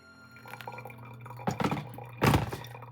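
Pour-over coffee drips and trickles through a paper filter, a steady low liquid patter with two louder splashy bursts of pouring, no voices.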